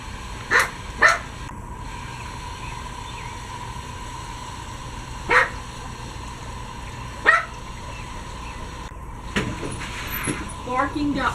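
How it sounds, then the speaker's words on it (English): A dog barks in short single woofs spaced out over several seconds, some louder and closer, over a background hum with faint voices near the end. "Rude barking dog."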